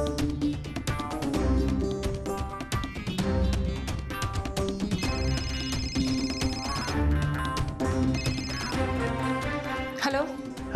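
A telephone rings in a Marathi TV serial scene, its bell tone repeating through the clip over a loud, continuous music score.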